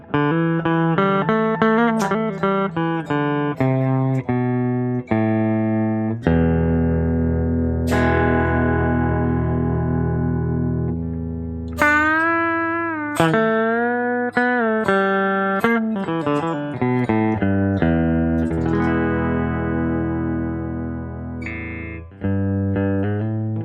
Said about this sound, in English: And this is using a Fender, clean Fender style amp simulation.